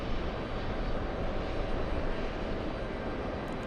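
Airplane taking off from runway 22 right, a powerful continuous engine roar that stays dense and even, loud and steady with no talk.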